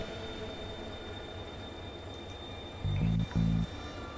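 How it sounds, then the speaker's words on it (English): Eerie green ghost train in The Darkside Detective video game, a continuous low rumbling drone with a steady high whine, broken near the end by two short, louder tonal blasts. "There's something of this green, transparent, and eerie train that suggests it's not meant to be here"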